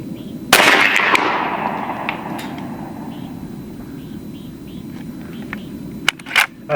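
A B&W Bin Tac M50 PCP air rifle fires at an outdoor range, a sharp loud report at the start trailing into a long echo, then a few sparser quick cracks near the end over steady background noise.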